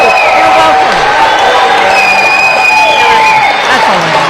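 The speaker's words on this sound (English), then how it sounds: "The crowd goes wild." A studio crowd cheers and applauds loudly and without a break, with whoops and whistles rising over steady clapping and mixed voices for about four seconds.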